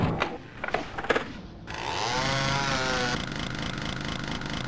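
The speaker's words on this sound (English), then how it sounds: "My chainsaw is probably poking out over the edge." Chainsaw in the video game Doom 2, a revving buzzy motor rising into a loud continuous whirring grind after a few sharp game hits, close and alone.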